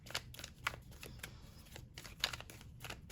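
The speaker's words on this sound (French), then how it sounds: "on va voir si on peut tirer encore quelques cartes" Tarot cards shuffled and drawn by hand, a run of faint, soft papery flicks and light slaps spread unevenly, with no talking.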